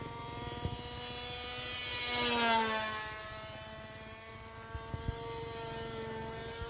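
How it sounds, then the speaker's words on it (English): A model plane flies past with a steady buzzing propeller whine that swells as it passes close, then recedes to a continuous drone, with a few faint clicks and no speech. "Which plane is this, Caffeine?"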